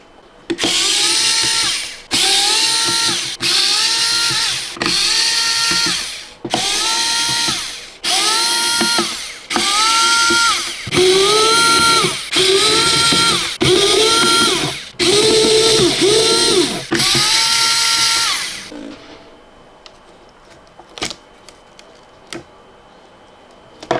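A power drill unscrews the back grille of a Tronsmart Force Max Bluetooth speaker in about a dozen loud, close whirring bursts, each ending in a pitch drop, then falls silent apart from a few faint clicks.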